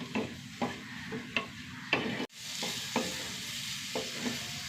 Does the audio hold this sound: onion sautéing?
yes